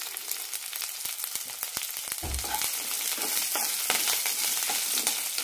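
Shallots, grated coconut and curry leaves sautéing in a pan for a horse gram curry, with continuous frying crackle punctuated by frequent utensil taps and one low thump, near and moderately loud.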